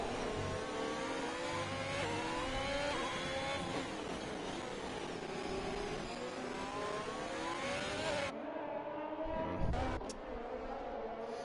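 Two Ferrari race cars in a simulated Singapore race, engines screaming at high revs with rising and falling pitch as they shift through gears, loud and continuous before cutting away near the end.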